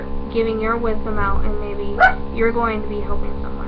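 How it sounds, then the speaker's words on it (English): Dogs bark briefly in the background of a tarot reading, a short burst rising under steady close talk from someone speaking throughout. "Apologize for the dogs barking."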